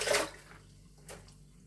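A merino x Exmoor wool fleece dunked and shaken in warm water: a short sloshing splash at the start, then quiet, then a second brief splash, close and without talk.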